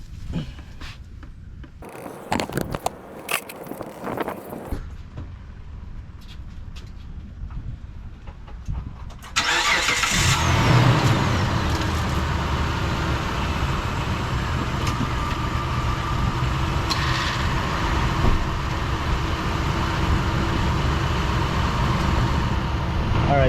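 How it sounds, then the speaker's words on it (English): A Gen3 Mitsubishi Montero engine starts after some handling noises and then runs at a loud, steady idle close by, put in neutral while transmission fluid drains. "it started the engine, put it in neutral, and here's the fluid coming out"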